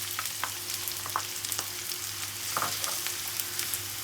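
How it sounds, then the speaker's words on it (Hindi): Onions frying lightly in oil in a pan for a khara masala gosht, a steady hissing sizzle with occasional stirring scrapes, close and moderately loud, with no talking. "प्याज को बस हमने हल्का सा फ्राई करना है।"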